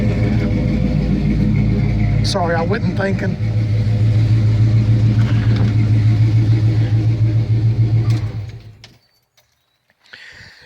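A 1984 Chevy C10 pickup truck engine idles with a deep, steady rumble, someone speaking briefly over it, before the motor shuts off and goes quiet.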